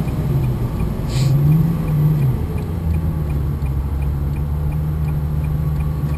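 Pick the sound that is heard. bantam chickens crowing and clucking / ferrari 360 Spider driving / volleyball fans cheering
ferrari 360 Spider driving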